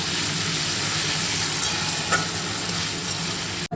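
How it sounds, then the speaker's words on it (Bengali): Prawns fry in hot oil with a steady, loud, close sizzle and hiss that runs unbroken, then cuts off sharply at the end. "চিংড়ি মাছটা ভাজি"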